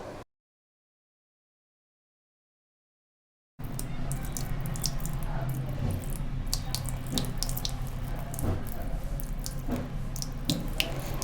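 Water runs steadily in a village bathroom as a cartoon girl bathes, a continuous near splashing stream with drips, starting abruptly after a silent gap and continuing alone to the end.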